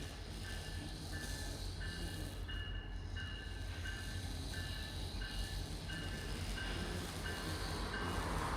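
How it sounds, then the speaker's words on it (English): A CSX freight train rumbles steadily from a distance, a broad continuous roar with a faint rhythmic clicking and a thin repeating tone running through it, growing slightly louder toward the end. "we can see the train appear off in the distance"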